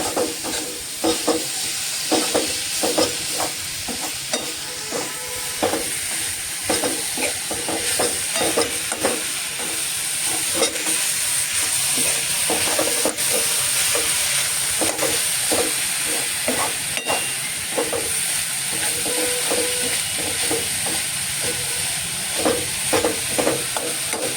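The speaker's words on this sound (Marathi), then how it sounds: "आता व्यवस्थित हे मिश्रण मिक्स करायचं आहे." A mixture of grated fresh coconut is stirred in a pan for Sindhudurg-style patole, with steady scraping and clinking strokes over a soft continuous sizzle, close and moderately loud throughout.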